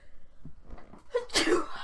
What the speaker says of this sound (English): About to sneeze, sorry.